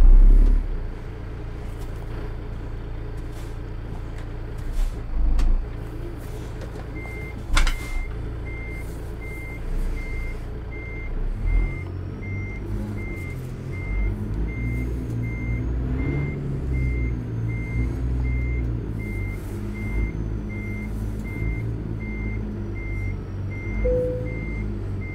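A Peterbilt 352 truck in American Truck Simulator backs up with a steady string of evenly spaced reversing beeps over a low, rumbling diesel engine.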